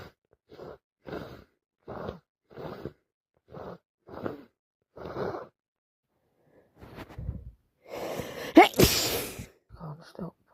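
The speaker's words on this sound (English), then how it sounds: "All I've done the last few days is sneeze." A person with hay fever lets out a string of about six short, evenly spaced breathy bursts, then a pause, and a louder, harsher sneeze-like outburst with sighs and gasps, close to the mic.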